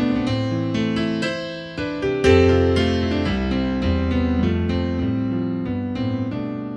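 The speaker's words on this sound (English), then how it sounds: "It's the chord progression from Pachelbel's Canon" Solo piano plays the Pachelbel's Canon chord progression, sustained rolled chords moving steadily at a moderate tempo with a bass line beneath, clear and fairly loud with no talk.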